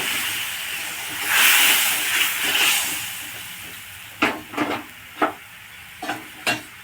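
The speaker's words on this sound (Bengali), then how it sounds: "এবার দিয়ে দেব মশলার বাটি ধুয়ে 1 বাটি গরম জল।" Hot water is poured into sizzling spice paste for chhanar dalna, a paneer curry, and gives a loud hissing burst of steam that fades. Sharp spoon scrapes and clinks against the pan follow.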